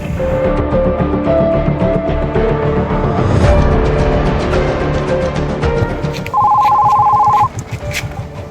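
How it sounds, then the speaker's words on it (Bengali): A phone rings in a dramatic scene, a loud electronic tone that sounds for about a second near the end over a louder background music bed. "কে ফোন করলো?"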